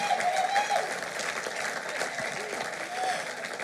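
A church congregation applauds and cheers the Lord, a sustained wash of clapping and crowd voices filling the room at fairly even loudness, with a few tonal vocal notes rising above it.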